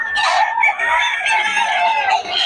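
Close, loud rooster crowing fills the moment, a strained, drawn-out call with a short break in the middle before it continues.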